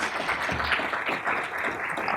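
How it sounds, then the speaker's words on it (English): Applause from a conference audience at the Arms Control Association annual meeting, a soft, continuous wash of clapping heard from a distance, with no voices over it. "If we can give Tom a big round of applause."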